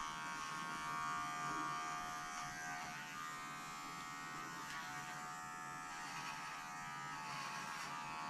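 Electric clippers set to a 15 blade buzz steadily and close up while shaving a poodle's face, working from the corners of the eyes forward at the stop, a continuous even hum with no talk.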